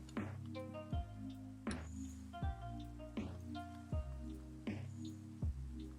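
Rain falls in the Minecraft video game with a shader pack, heard as a steady run of distinct, evenly spaced drips, each a clear plinking droplet landing close by, with no talk over them.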